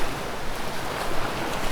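Stormy water waves in a cartoon make a dense, continuous roar of surf and rushing water, loud and unbroken for a couple of seconds with no voices.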